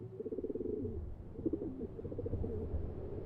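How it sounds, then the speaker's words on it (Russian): Pigeons cooing in the video game Daydream: Forgotten Sorrow, repeated soft throaty coos in pulsing bursts, low and fairly close, with one bird overlapping another and no talk. "Голуби."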